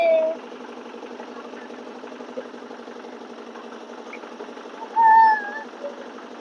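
A boat engine runs on the Brahmaputra river near Guwahati, giving a steady, mid-pitched droning hum with brief brighter tones rising over it at the start and near the end.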